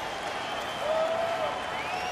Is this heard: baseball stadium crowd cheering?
yes